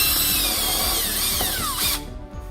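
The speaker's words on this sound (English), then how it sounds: "I'm gonna drill one pilot hole here" A power drill bores a pilot hole vertically into wood for mounting shelves on drywall, a steady loud whine running continuously, its pitch sliding downward near the end before the motor cuts off abruptly, leaving near silence.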